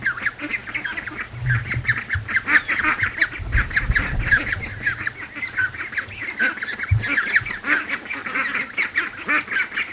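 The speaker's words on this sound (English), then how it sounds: "Oh, the chickens are rattling off here." Free-range poultry near a lake give off a steady, busy run of squawks and honks, with ducks and chickens close by and a few low thumps underneath.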